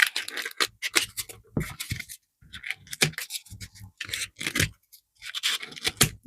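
Scissors snip through crepe paper for a large paper poppy, a quick series of close, crisp crunching cuts with short pauses between them.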